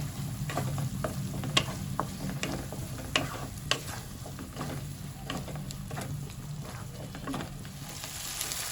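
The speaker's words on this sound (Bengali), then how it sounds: "হাফ চামচ আদা বাটা, হাফ চামচ রসুন বাটা দিয়ে ভালো করে নেড়ে নেব" Ginger and garlic paste stir-fried with browned onion in a pan for a mixed vegetable dish, a steady sizzle broken by scattered scraping clicks of the spoon throughout.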